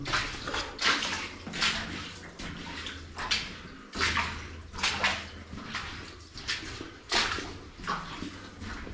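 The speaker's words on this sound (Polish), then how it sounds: "Rura z wodą." Water spills from a pipe inside the Zygfryd mine, a steady splashing gush with recurring surges of louder rushing, close by and continuous.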